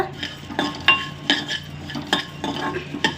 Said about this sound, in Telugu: ధనియాలు వేగుతున్నాయి కొద్దిగా వేయించినాయి కదా